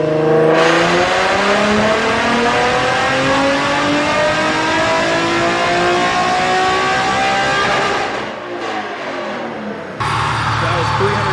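A cammed Infiniti G37 sedan on a dyno revs hard and loud, its engine note climbing steadily for about eight seconds before dropping off, with a brief lower idle-like rumble afterward.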